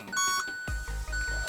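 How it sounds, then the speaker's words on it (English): Electronic beeps from a 2018 Hyundai Elantra Sport 1.6 Turbo, a few short high tones followed by a deep low thump and rumble. "A lot of beeping noise."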